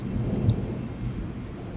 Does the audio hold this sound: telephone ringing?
no